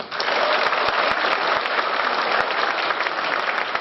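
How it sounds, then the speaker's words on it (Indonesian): Steady, dense applause from a large audience, loud and continuous throughout with no pauses. "Tepuk tangan untuk Anda semua"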